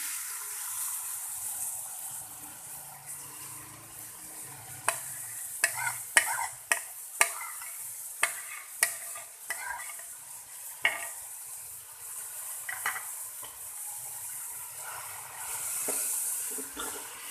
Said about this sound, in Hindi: इन्हें 2 से 3 मिनट फ्राई करेंगे जब तक ये सॉफ्ट नहीं हो जाते।